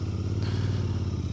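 Royal Enfield Interceptor 650 motorcycle engine pulling in first gear on a road ride, a loud, steady throbbing drone close up.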